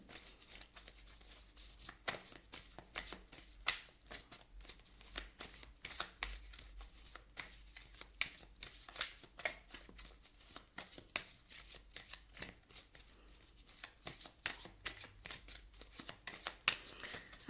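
Oracle cards of the Lise Bartoli light deck being shuffled and drawn, a long run of quick, crisp riffling flicks and taps, close and soft, with no speech.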